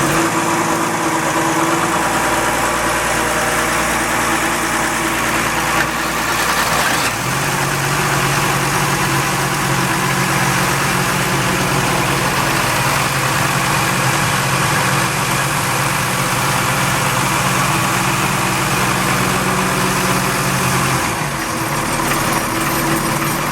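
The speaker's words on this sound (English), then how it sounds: "Let's hear the motors run while we're in here." Twin Ford Lehman diesel engines aboard a Grand Banks 36 trawler, started cold after a month unused, settle into a loud, steady idle with a deep, even rumble and constant vibration throughout, close up and with no talking.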